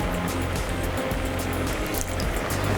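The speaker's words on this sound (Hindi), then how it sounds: "अब पानी डालते हैं, इसमें स्लरी बनाते हैं" Water is poured in to make a slurry for a green chutney and pakora recipe, a continuous splashing, gurgling pour close by with no talking.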